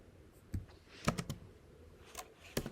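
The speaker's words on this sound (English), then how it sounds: "go over to your computer keyboard and hit Command and space button" Keys on a Mac computer keyboard are pressed in a sparse, irregular series of crisp clicks, close and fairly quiet, with a few louder taps clustered together.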